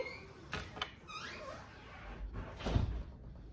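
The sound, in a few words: door closing in the house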